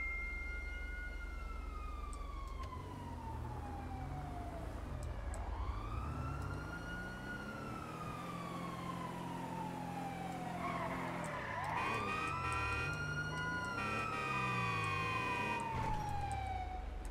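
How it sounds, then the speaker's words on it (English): A wailing emergency siren from an ambulance in GTA5 sweeps steadily up and down in long rising and falling cycles, loud and continuous, with a second siren tone joining partway through over low traffic rumble. "Oh, wait, is that the ambulance?"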